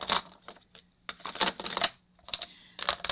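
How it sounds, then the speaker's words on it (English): Rummaging through a storage bin of craft supplies, with quick bursts of clicking, clattering and rustling as items are shifted and knocked together, close and fairly quiet. "pardon me as I shuffle through my bin here"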